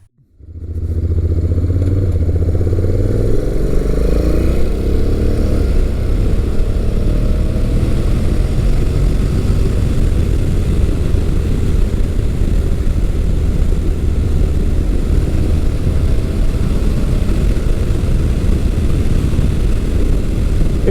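Honda NC700X adventure motorcycle with dual clutch transmission being ridden, a steady loud engine drone and wind rush rising as it accelerates and continuing unbroken throughout.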